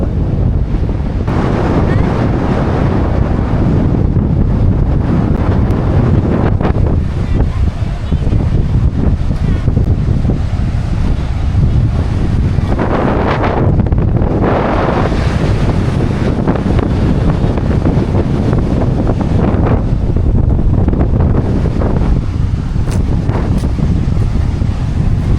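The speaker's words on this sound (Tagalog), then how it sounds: "Lakas ang hangin." Strong wind roars and buffets against the microphone nonstop on an Ilocos beach, with surf washing underneath and occasional faint voices.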